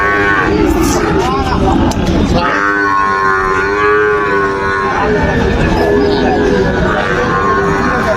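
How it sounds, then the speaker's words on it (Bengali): Young water buffalo calves at a village livestock market, loud close moos and bellows overlapping one another, with people talking faintly in the background. "এগুলো বাচ্চা মহিষ বাঁধে রাখছে শুয়ে রাখছে"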